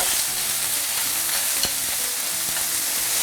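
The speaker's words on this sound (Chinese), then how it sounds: "两面定型之后，接下来我们煎的时候可以把火开大一点" Chicken breast fries in a hot pan over raised heat, a steady broadband sizzle with occasional sharper pops and a faint low scrape, alone and even throughout.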